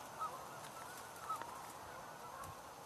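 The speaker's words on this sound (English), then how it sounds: "So Canada geese there" Canada geese honking in the open outdoors, a few short calls spaced across the stretch and heard at a moderate distance over steady background noise.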